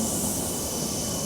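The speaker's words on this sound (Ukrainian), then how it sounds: "Ось таке метро." A Helsinki metro train runs with a steady, close rumble and broad hiss, a continuous rolling roar with no pauses and no voices.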